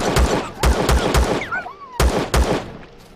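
Gunfire in the survival video game Empyrion Galactic Survival: six loud, sharp shots in an uneven rhythm, with a swooping whistle-like sound between them.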